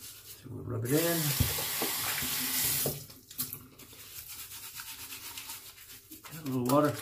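Tap water runs into a sink during a shave with Cremo Original cream, a steady broadband rush starting and stopping in bursts, near and fairly loud, with someone talking briefly over parts of it.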